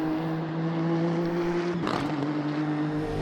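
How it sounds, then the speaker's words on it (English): Nissan race car in the Automobilista 2 sim racing game holds a steady engine drone, then a sharp upshift with a crackling exhaust pop near the middle before the engine note settles again at a new pitch. "the gear shift sounds great though, doesn't it? That crack out of the exhaust"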